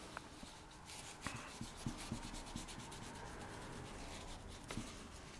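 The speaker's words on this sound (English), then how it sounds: "you want to just rub this all over. This is going to give you some cool patina." Patina finish is rubbed by hand over a surface while distressing a finish, a faint, steady close-up scrubbing with a few soft knocks and taps scattered through it.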